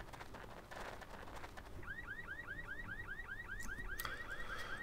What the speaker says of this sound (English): Well, there goes the alarm.